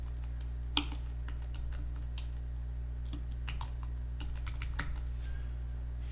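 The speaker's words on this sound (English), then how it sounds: "I'm going to type in the word seashells." Typing on a computer keyboard, a quick run of close, light key clicks in uneven rhythm over a steady low hum, with no talking.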